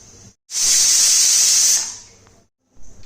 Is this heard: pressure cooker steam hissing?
yes